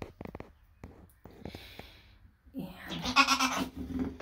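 A newborn baby goat bleats in short, faint cries, with a few soft knocks earlier and a brief spoken word near the start.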